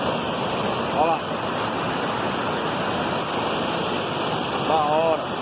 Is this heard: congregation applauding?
no